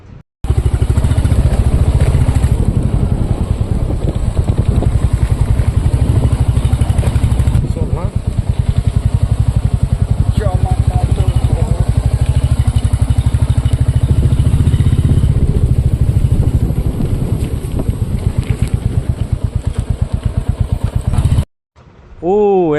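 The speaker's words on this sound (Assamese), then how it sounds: "ৰাস্তাবোৰ ইমান পিছল হৈ আছে, এওঁলোকে পৰিছিল নেকি আৰু বাইকটো লৈ যোৱা বহুত ৰিস্ক হৈ আছে।" A motorbike ridden along a slippery, muddy road makes a loud, continuous engine drone for about twenty seconds, with clattering and thudding over rough ground, before it cuts off abruptly near the end.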